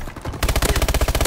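MP11 gun fired in Call of Duty: Advanced Warfare during Team Deathmatch on Sideshow: after a short quiet lead-in comes a close, loud automatic burst of roughly fifteen rapid, evenly spaced shots.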